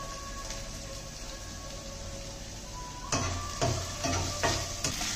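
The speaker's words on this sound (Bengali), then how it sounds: "আর এখানে চিকেনটা ফ্রাই হচ্ছে।" Chicken frying in a pan alongside chillies, dried chillies and tomato, a steady close sizzle that grows louder with several sharp crackling bursts over the last two seconds, no voices.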